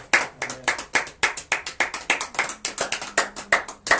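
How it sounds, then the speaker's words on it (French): A church congregation claps in steady, rhythmic unison for God at the close of a French-language sermon, loud and close, with sharp hand claps repeating about every quarter second and faint cheering underneath. "Est-ce qu'on peut acclamer pour l'Éternel?"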